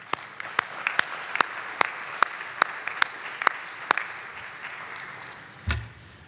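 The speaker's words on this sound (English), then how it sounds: "So I want to give all of you an applause real quick." Sparse audience applause at a conference summit: a steady run of evenly spaced claps, fairly quiet and thin, ending with a brief low thump.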